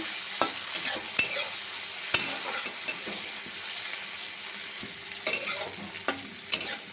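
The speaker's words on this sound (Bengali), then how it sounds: "এবার মাছটাকে আমি একটু ভেজে দেবো।" Dried shrimp fry in hot oil with a steady bright sizzle, while sharp stirring scrapes and clicks come through at irregular moments over about seven seconds.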